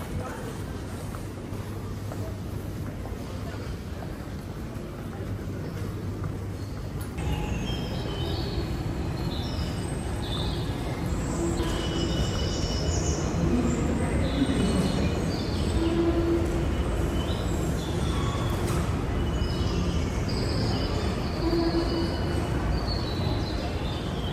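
A train pulls into a station, bound for Geneva, Switzerland, its low steady rumble rising and then holding under brake squeal and high whining tones, with birds chirping in the background.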